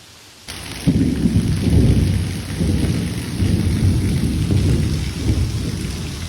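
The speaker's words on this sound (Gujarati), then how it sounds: "વરસાદ થોડો વધારે ચાલુ થઈ ગયો છે, તો હું તમને વરસાદની થોડી ઝલક બતાવી દઉં." Heavy rain pours down in a steady, dense roar of drops hitting surfaces, beginning abruptly and continuing loud and unbroken, with no voices.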